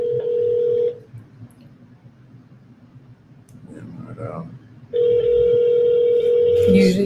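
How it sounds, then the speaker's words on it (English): An office telephone call rings out with nobody answering: two long steady ringback tones about four seconds apart, loud and close, with quiet background murmur between them and a click at the end. "Oh, nobody wants to pick up the phone."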